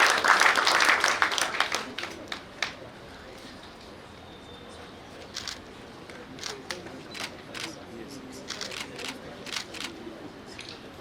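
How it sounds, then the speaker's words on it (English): Audience clapping at a government signing ceremony, a short burst of applause at the start that fades into scattered camera shutter clicks, with faint voices in the hall. "Yes, we clap. The PS signs."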